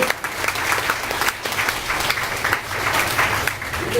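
A church congregation breaks into steady, dense applause that fills the room, a continuous wash of many hands clapping with faint voices mixed in.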